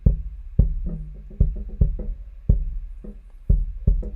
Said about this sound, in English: the sub kick, which I made out of a speaker